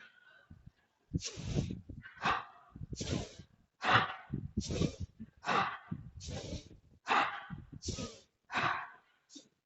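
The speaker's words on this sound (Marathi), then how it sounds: "नाकाने श्वास घ्यायचा आहे तोंडाने सोडायचा आहे" A person breathes in through the nose and out through the mouth during an abdominal exercise routine, with audible rhythmic exhalations between spoken instructions.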